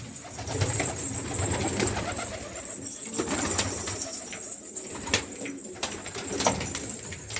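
A released pigeon flutters off outdoors, with soft wingbeats, a few sharp clicks and faint cooing over a steady, fairly quiet outdoor background.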